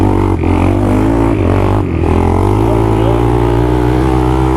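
A midsize quad ATV engine revs hard during a drag race, a loud close buzzing drone with brief dips as it shifts gears, running continuously with no talking.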